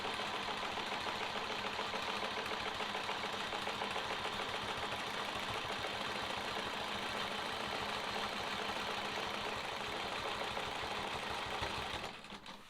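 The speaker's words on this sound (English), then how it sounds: "so let's quit talking and just sew." A sewing machine quilting a sawtooth star block runs steadily for about twelve seconds, a fast even needle stitching with a motor hum, close and alone before it stops right at the end.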